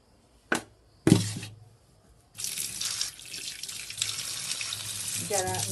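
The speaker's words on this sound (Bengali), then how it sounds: "চূড়নটাকে ধুয়ে ফেলতে হবে।" Tap water splashes into a sink as fruit is washed, beginning after a couple of sharp knocks and then running steadily and fairly close, with a brief voice heard near the end.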